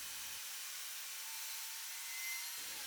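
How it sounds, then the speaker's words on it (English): A hand saw or blade working through a plywood sheet offcut, a steady continuous rasping hiss with no pauses, fairly quiet and close. "When cutting sheet materials like this, it is critical to ensure the board is supported during and after the cut"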